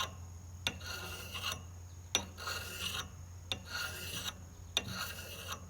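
A hand file sharpens an axe edge with slow, regular rasping strokes, four distinct scrapes each starting with a sharp catch, close and moderately loud with no talk.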